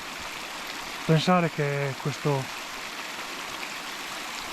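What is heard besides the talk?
small mountain stream flowing, source of the Arno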